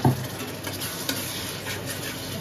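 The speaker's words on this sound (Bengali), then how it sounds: "এবার এটা দিয়ে কষাবো ভালো করে" Ground turmeric and Kashmiri chilli paste sautés in a pan with a steady, close sizzle, broken by a few sharp spatula scrapes near the start and middle.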